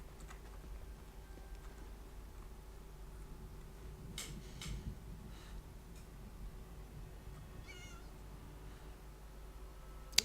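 A cat meows a few times, faint and somewhat distant, over quiet background noise with occasional ticking and soft clicks.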